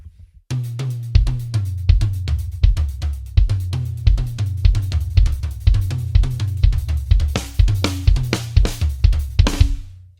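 A fast, continuous drum sticking pattern mixing kick, toms and hi-hat, played up close and evenly for several bars before ending in a crash.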